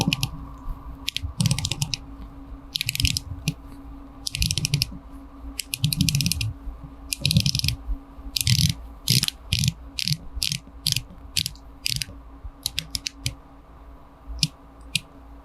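Bezel of a Seiko Prospex SPB349 Cave Diver dive watch turned by hand, giving bursts of crisp ratcheting clicks in quick runs separated by short pauses, close-up and alone.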